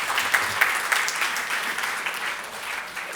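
Audience applause in a university hall at an industry skill symposium, dense steady clapping from a crowd with a few sharper claps standing out, sustained for a few seconds.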